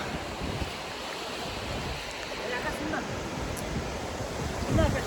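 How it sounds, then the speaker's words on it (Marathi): Steady broadband rush of sea waves washing onto a beach, continuous and fairly loud, with wind noise on the microphone and no clear voices. "आम्ही मस्तपैकी समुद्राच्या किनारे एकदम लाटांची मजा घेत चालतोय बघा"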